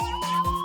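A police car siren wails in a short, loud burst with a steady high tone and rising sweeps, heard alone.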